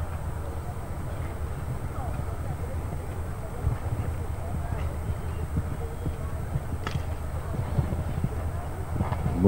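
A horse gallops over a show jumping course at a 1994 Italian championship at La Bagnaia, its rapid hoofbeats a low, continuous rumble under the crowd and the surrounding ambience.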